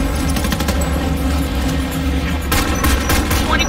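Dense, continuous gunfire in Homefront: The Revolution, rapid overlapping shots forming a loud, unbroken fusillade with engine rumble beneath and a sharper burst of reports near the end.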